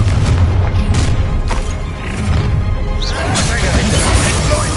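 Confringo fire spell blasts in Hogwarts Legacy, rolling explosive booms and crashes over a dense game battle with a troll, loud and continuous, with voices shouting over the action.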